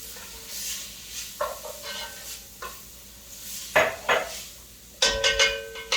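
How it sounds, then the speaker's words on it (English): A spoon scrapes and clinks against a pot as chopped pepper is stirred into a sizzling Brazilian soup base, with soft continuous frying hiss and a few sharper metallic taps near the end. "And to that we will add the pepper that we chopped up. Get that in there. And give it a little stir."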